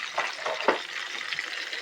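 Food frying in olive oil gives a steady close hiss with a few brief louder crackles and stirring bursts, heard alone.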